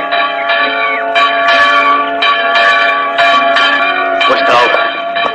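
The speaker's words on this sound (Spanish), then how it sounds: "Bendita campana vieja. Su voz llegó a todas partes." A large church bell, one meant to swing in the tower of a new church, rings out in loud, repeated strokes with long humming overtones over steady background noise.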